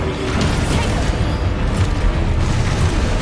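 Confringo blasting spell explosions in Hogwarts Legacy, a dense continuous roar of loud booming blasts with no break, close and heavy.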